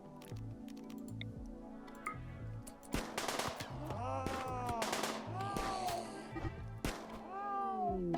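Gunfire rings out in the RimWorld video game as sharp, repeated shots, mixed with other game effects like creature cries under background music, while a player talks over it.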